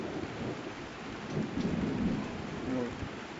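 Heavy typhoon rain pours steadily, heard from a home balcony, with low thunder rumbling through the downpour and no voices.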